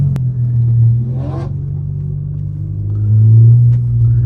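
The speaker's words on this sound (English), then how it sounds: "That drone off that exhaust is bonkers, man." Heavy low exhaust drone from an Audi S3 heard from inside the cabin, a loud constant rumble that swells as the engine pulls harder near the end; no one talks.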